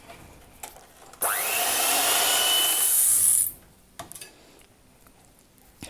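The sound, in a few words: electric beater mixing red velvet cake batter with vinegar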